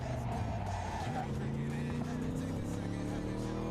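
Cars race in Cyberpunk 2077 with a steady, droning engine roar and tire squeal running throughout, fairly faint and continuous, with no clear speech.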